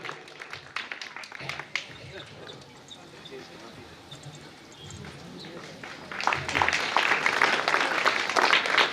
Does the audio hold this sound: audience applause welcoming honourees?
yes